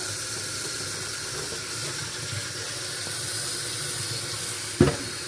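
Water runs from a tap over a cutting board being rinsed with soap after cutting raw meat, a steady broadband hiss of flowing water with a brief knock near the end.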